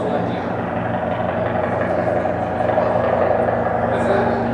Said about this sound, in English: You think it's a helicopter?